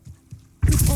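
Confringo fire spell cast in Hogwarts Legacy: after a few soft low thumps, a sudden loud, broadband whooshing burst erupts and sustains to the end of the short moment.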